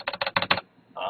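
Aggressive typing on a mechanical computer keyboard, five quick loud bursts of clacking keys in rapid rhythm, then a brief pause and another softer keystroke, recorded up close.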